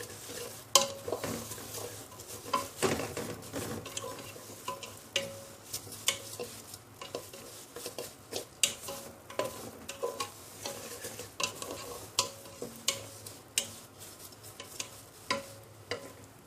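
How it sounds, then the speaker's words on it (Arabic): Vermicelli is stirred and fried in a pan until browned, giving a steady low sizzle under repeated scraping strokes of a utensil against the pan in an irregular rhythm. "هقعد بقى اقلب في الشعريه لحد ما لونها يحمر"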